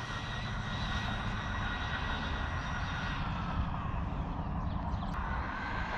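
An RC car, Traxxas Bandit VXL or Arrma Typhon 3S, speeds by at full throttle, giving a steady, fairly faint high-pitched motor whine over outdoor rumble with no break for the whole stretch.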